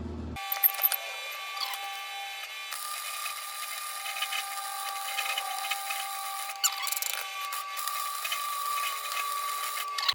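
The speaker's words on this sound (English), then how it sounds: "Tacked up, ready to go. We'll just weld it up here." Welding on a metal cart for a hit-and-miss engine, a continuous close crackling hiss that runs steadily for about ten seconds with slight surges and no talk.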